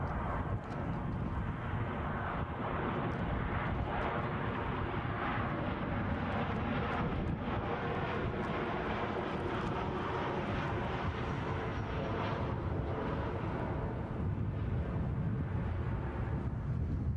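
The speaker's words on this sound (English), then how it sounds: "inbound is a Jet 2 from Faro" A Jet2 airliner inbound from Faro approaches Edinburgh airport, its engines a broad, steady roar that holds loud and continuous, with a faint whine over it throughout.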